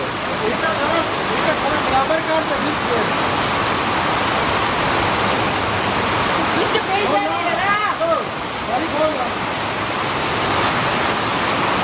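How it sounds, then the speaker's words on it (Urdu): Heavy rain pouring steadily in Khadimabad, Bariyal, Azad Kashmir: a dense, continuous roar of falling water that stays loud throughout, with a voice faintly under the downpour partway through. "مزید بارش سپیڈ پکڑی گئی ہے جناب خادم آباد بڑیال آزاد کشمیر میں"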